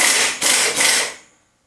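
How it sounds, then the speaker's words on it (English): An impact wrench tightens a nut on a Volkswagen generator in three quick, loud hammering bursts, then cuts off and winds down to silence. "Zap this on with the impact."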